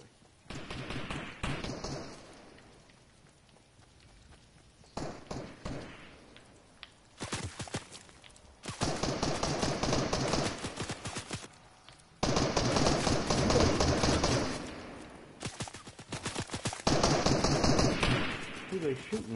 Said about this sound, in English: Who the heck are they shooting at?